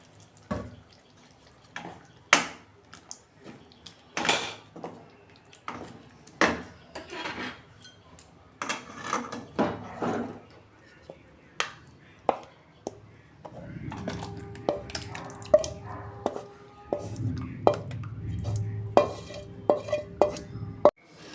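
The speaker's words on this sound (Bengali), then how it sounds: "এই যে ওপর দিয়ে আমি একটু কাঁচা সর্ষের তেল দিয়ে নাড়বে নিচ্ছি" Jhinge aloo posto being stirred in a pan after raw mustard oil is poured over it, with sharp, irregular clanks and scrapes of a spoon against metal, close by, followed by softer sizzling and clatter near the end.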